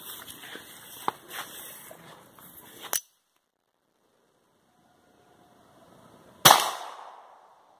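Two sharp .22 LR pistol shots from CCI ammunition in a Browning Buck Mark, the first near 3 seconds ending a stretch of quieter handling noise, the second after a pause, loud and close with a short ringing decay.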